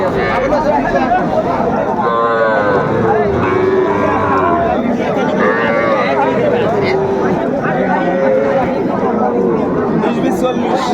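Cattle, young bulls and heifer calves, low and moo repeatedly amid a busy Cumilla cattle market crowd, with people chattering loudly all around the animals.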